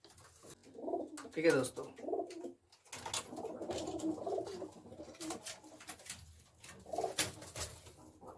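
Pigeons, a pair of highflyer birds, coo in soft repeated throaty bursts close by, while someone speaks briefly in between the calls.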